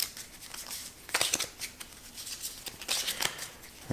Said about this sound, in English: And then we shuffle these into the population draw pile.